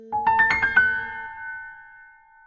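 A single black bell strikes with a bright, ringing tone that hangs and slowly fades away.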